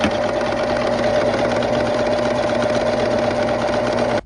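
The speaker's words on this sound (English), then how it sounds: "these sergers are for doing the edge of something to make it look nice, but you could also sew with it" A Singer serger runs steadily overlocking a raw fabric edge, giving a close, continuous mechanical whir with a fast stitching chatter that holds for about four seconds and then stops abruptly.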